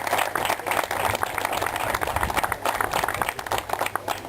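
Dense applause from an audience at an outdoor memorial ski and ice-axe event, a steady wash of many hands clapping throughout with some crowd noise mixed in.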